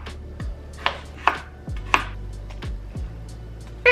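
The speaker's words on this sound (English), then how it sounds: "Okay, so all the chopping is done now." Cucumber and apple sliced for a salad with a knife on a board, a steady series of about eight crisp, close chops with short pauses between them, alone.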